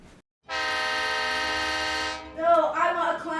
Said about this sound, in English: Your turn, train horn.